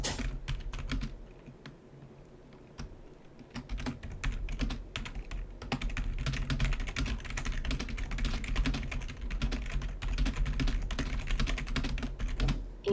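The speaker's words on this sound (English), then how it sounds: "The typing on the like clacky keyboards is fucking ASMR" Rapid, continuous typing on a clacky mechanical computer keyboard, dense strings of sharp keystroke clicks that pause briefly near the start and then resume steadily, heard up close with no talking.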